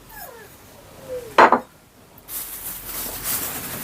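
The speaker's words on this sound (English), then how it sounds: "Whiny dog at the door." A dog whines at a door, thin rising whimpers at first, then a sharp loud yip-like burst, followed by quieter background noise with no speech.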